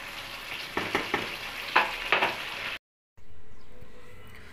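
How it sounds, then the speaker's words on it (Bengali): Prawn malai curry bubbling in a pan while it is stirred gently, with a few soft scrapes and clinks over a low simmer. The sound cuts out briefly, then a quieter steady hiss follows. "এখন এটাকে জাস্ট একটু হালকা হাতে নেড়ে চেড়ে চুলাটা বন্ধ করে দিলেই রেডি আমার চিংড়ি মাছের মালাইকারি।"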